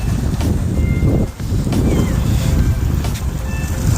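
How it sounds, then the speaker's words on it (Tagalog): Strong wind gusting across a microphone at a rainy seashore with rising waves, a steady low roaring rush with brief lulls, no talking over it. "Lakas ang hangin, no?"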